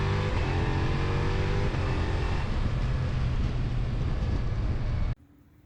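A 2022 Ducati Multistrada V4 with a quick shifter rides along with a loud, steady engine drone and a slight pitch change partway through, then cuts off abruptly near the end.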